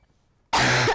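An 11-year-old girl with a persistent two-year cough lets out a single harsh, loud cough that breaks abruptly out of near silence.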